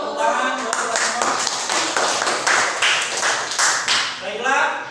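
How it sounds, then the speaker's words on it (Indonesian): Several people clap their hands together in a classroom lesson after singing a patriotic song, a burst of crisp claps running for a few seconds alongside a speaking voice. "Ya, tepuk tangan buat kita semua."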